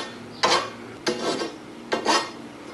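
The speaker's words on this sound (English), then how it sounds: "kind of file those off before I do any more work with them" A hand file rasping across steel set screw couplings, three separate short strokes spaced apart, close and crisp with a metallic scrape, no talking.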